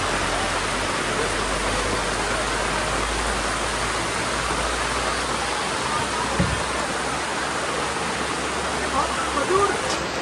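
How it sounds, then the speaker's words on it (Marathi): Heavy monsoon rain pours steadily, a dense, even wash of downpour noise close around, with a brief thump midway and faint movement near the end. "पाऊस तर अजून चालूच असा"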